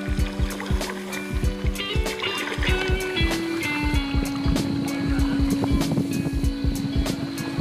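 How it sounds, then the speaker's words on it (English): Canoe paddling down a rocky creek, rhythmic paddle strokes and drips of water knocking against the hull at a steady pace, close and fairly loud, with a bright tonal hum running underneath. "Paddling down the creek."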